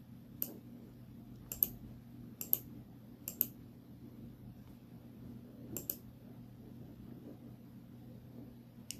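Sharp, faint computer mouse clicks come one at a time or in quick pairs at irregular intervals while editing in Photoshop, over a quiet low hum.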